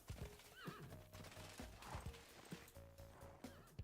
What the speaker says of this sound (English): Yeah, more horses coming around.